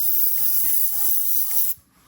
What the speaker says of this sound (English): So now I spray that a little bit into the background too, just to give a touch of color